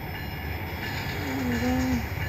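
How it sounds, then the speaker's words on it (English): A train rolls steadily through a Union and CP rail yard, a constant low rumble with a short horn-like tone rising near the end, moderately close and without talk. "Okay, here is a train."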